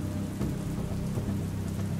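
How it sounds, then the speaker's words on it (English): Rain beats down steadily on a dilapidated roof with thunder rumbling low underneath, a dense, continuous patter at even loudness throughout. "As the rain beats down on the dilapidated roof"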